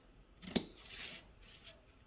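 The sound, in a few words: scissors clipping fabric seam allowance on curves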